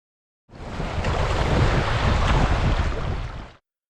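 Choppy sea waves wash and churn around a sea kayak, a loud continuous rushing of surf mixed with wind buffeting the microphone, fading in and out over about three seconds.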